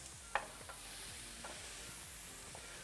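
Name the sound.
onions and veggies sizzling in a pan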